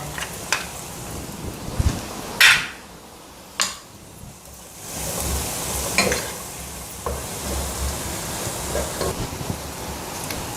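The remaining butter goes into a pan of vegetable pasta, and a soft hiss and sizzle rises under intermittent scraping and clacking of a spoon stirring against the pan, close by with no talk.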